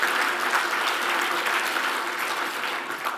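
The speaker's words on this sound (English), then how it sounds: "Please give the chairman a round of applause again." Steady applause from an audience honoring a chairman at a keynote event, dense and sustained throughout without pause, fairly loud and even in level.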